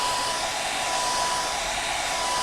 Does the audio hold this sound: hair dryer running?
yes